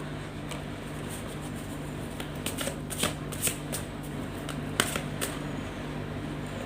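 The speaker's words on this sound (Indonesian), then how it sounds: "Di sini saya akan mengambil 6 kartu." Tarot cards are shuffled and drawn by hand, with soft riffling and several crisp snaps and slaps of cards close up over a low steady hum.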